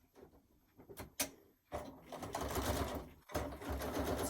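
Sewing machine with a walking foot stitching an economy quilt block, starting with a few clicks and taps, then running in two steady bursts of close mechanical whirring with a short pause between.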